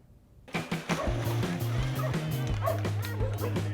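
Dogs barking and yipping at an outdoor pool dog swim event in O'Fallon, Missouri, several sharp barks in irregular bursts close by, over a busy background of splashing and crowd noise.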